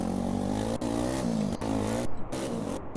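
A motorcycle engine revs in a GTA roleplay game, a steady mid-pitched drone that rises and falls through a few throttle swells, loud and close, broken by brief clicks.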